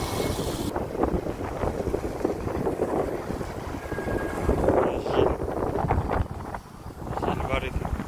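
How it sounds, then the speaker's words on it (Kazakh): Strong outdoor wind in Atyrau, where children play, roars steadily across the microphone with gusty swells and rumbling buffeting that stays loud for the whole stretch. "Жел бар екен."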